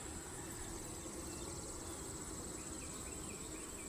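Honeybees hum around a hive frame during a colony inspection, a thin, even, continuous buzzing at low volume with no pauses.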